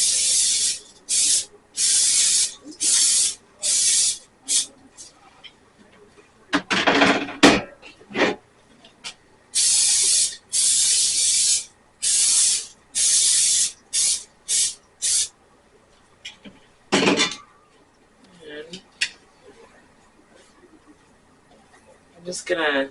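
Cooking spray hisses onto baking pans for homemade pizza in repeated short bursts, several spritzes with gaps between them, loud and close in a kitchen.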